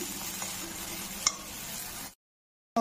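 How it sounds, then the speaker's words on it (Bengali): Soaked spices with salt sautéing in a pan for Bengali fish curry, a soft steady sizzle with stirring and a single sharp tap before a brief silence and a renewed burst. "মশলাগুলি খুব ভালো করে কষিয়ে নেব।"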